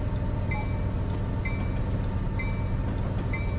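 A Santa Fe intermodal train in Train Simulator 2020 rumbles steadily with a low, continuous engine drone and rolling wheel noise, punctuated by a regular, repeating bell, with no talk.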